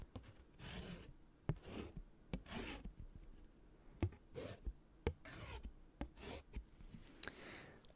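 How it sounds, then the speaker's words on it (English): A pen writes a short two-letter word on paper, giving close, soft scratchy strokes with brief pauses between them and a few sharp taps as the tip lifts and lands, with no talking. "Did you see my pen stroke there?"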